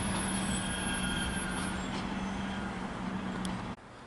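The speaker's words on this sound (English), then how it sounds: "And there's also a bus to our right arriving." A bus arrives at a station beside the railway, its steady engine drone and road rumble loud and constant before cutting off abruptly near the end.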